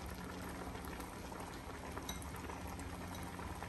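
Rice with raisins simmers uncovered in a pot as its water cooks off, giving a steady, soft, dense bubbling hiss throughout with no voices.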